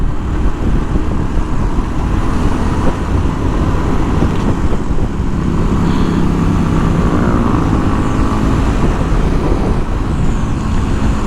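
A Modenas KLX230 SM motorcycle ridden along a hilly road, its steady engine drone mixed with heavy wind rush throughout, continuous and loud with no talking.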